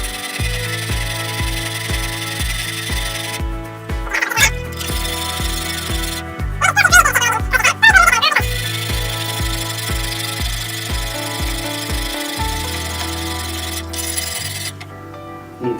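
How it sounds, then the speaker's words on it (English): A knife is sharpened on 200 grit stones in a Wicked Edge GO guided sharpener: repeated rhythmic abrasive strokes, steady and close, with a few brief harsher scrapes and no voices. "fixed all the damage with the 200 grit stones that come in the"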